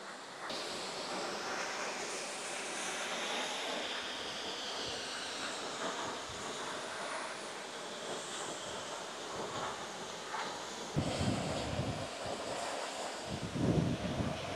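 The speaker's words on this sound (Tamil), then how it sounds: "எப்படி கொட்டுது பாருங்க அருவி." A waterfall pours down between two hills beside a flowing river, giving a steady, broad rushing roar that swells louder near the end, with no voices.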